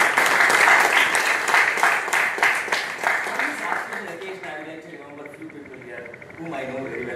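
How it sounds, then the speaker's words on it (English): Applause from the audience at a Toastmasters committee installation ceremony, loud and dense at first, then thinning and fading as a speaker's voice comes in over the tail. "Give them a big round of applause."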